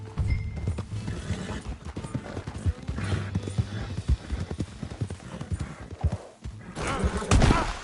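Horse hooves clip-clop steadily in Red Dead Redemption 2, with a continuous rhythmic trot under low ambient game sound, a snort or whinny near the end.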